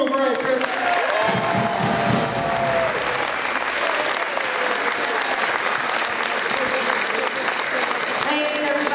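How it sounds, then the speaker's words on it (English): Sustained audience applause fills a school volleyball assembly gym, loud and steady throughout with scattered cheers mixed into the clapping. "A nice round of applause for Miss Coach Chris Drew."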